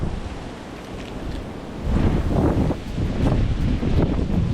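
Wind blows through swaying trees on a northern Michigan backpacking trail, a soft rushing that swells louder in gusts partway through, with no voices.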